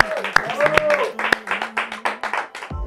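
A television studio audience claps for a guest singer on a talk show; scattered claps over music and a voice, fairly loud and close, thinning out toward the end.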